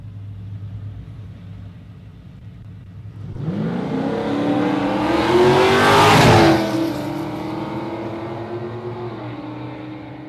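Two drag racing cars launch side by side down a drag strip at Warwick Dragway, engines swelling from a low idle into a loud roaring pass that peaks and fades as they speed away.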